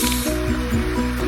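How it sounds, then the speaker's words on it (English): Pork belly searing in a hot pan for a Chinese braised Hong Shao Rou, giving a steady close sizzle and hiss with soft squishy shifts as the meat moves, heard alone without voices. "Now sear pork. Cooking time 3 minutes."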